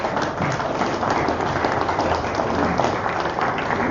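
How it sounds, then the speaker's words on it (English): Audience applause at an ethics debate on whether children should be told if Santa exists, a steady wash of clapping filling the room for the whole stretch, fairly loud and without a break. "It was a pity applause."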